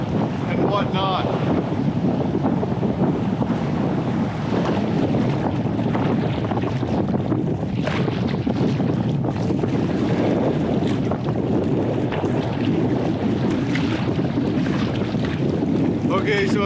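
Wind and waves on an open Arctic river while paddling a canoe near falls with tricky currents: constant loud wind buffeting the microphone over washing, splashing water for the whole stretch, with no speech.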